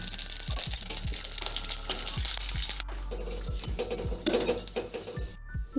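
Dried red chillies, a bay leaf and radhuni hit hot oil as a tempering for bitter gourd dal, giving a steady bright sizzle with a series of metal utensil clunks and knocks against the pan.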